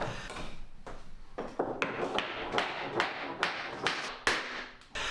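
An offcut tapper block knocks an engineered oak floorboard into place, giving a series of about ten sharp wooden taps in an irregular rhythm, close and fairly crisp with no talking.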